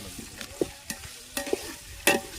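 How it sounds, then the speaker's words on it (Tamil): Ingredients for Andhra biryani being stirred and sautéed in oil: a spoon or ladle scrapes the pot in several distinct strokes over a soft background sizzle, close and fairly quiet, with no talking. "நல்லா கலக்கி விட்டுக்குங்க. எண்ணெயில் நல்லா வதங்கட்டும்."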